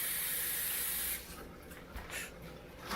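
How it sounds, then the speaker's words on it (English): Tap water sprays loudly into a sink as hands are rinsed, a bright steady hiss that cuts off after about a second, leaving quieter splashing and dripping. "I'm going to rinse the hands off"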